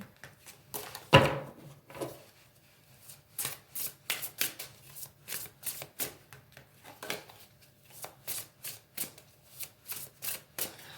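A deck of tarot cards is cut and shuffled close by, with a run of crisp, rhythmic riffling bursts and a sharp snap near the start, and no voices over it.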